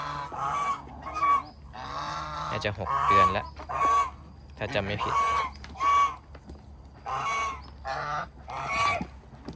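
Geese honk repeatedly in short loud bursts nearby, with someone speaking quietly between the calls.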